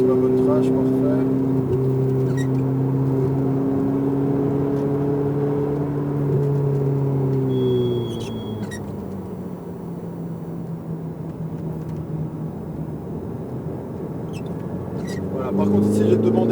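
A car being driven around the Mettet race track gives a steady engine drone whose pitch falls as it slows for braking and rises again near the end, with someone talking over it.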